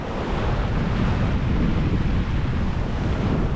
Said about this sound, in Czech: A najednou jste na pláži, relaxujete u moře.